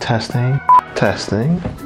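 A phone emits a short electronic tone, a single brief beep between stretches of close speech from people talking in a room.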